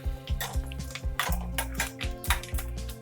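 Fenugreek, coriander seeds, fennel and red chillies dry-roast in a kadai, giving a steady run of soft scraping and rattling stirs under a bed of background music, with no talking.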